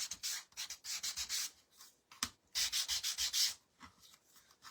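Fine-grit sandpaper rubs over the drilled holes of a small wooden frame ornament in short, rhythmic bursts of scratchy strokes with brief pauses between them, close and clear with no talking.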